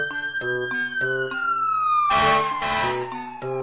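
A close, loud electronic fire engine siren sweeps in a slow falling wail over repeated horn-like pulses, with a burst of harsher tone in the middle before the pattern returns.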